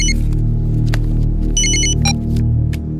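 A telephone rings repeatedly in short bursts over a loud, continuous music and effects bed in a Hindi-dubbed South Indian action film scene.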